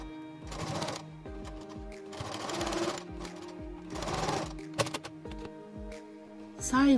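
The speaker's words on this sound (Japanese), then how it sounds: "ここをミシンで縫います。" A sewing machine stitches an apron strap in three rapid rattling bursts, each a couple of seconds long, with short pauses between and a few quick clicks and a brief final run at the end.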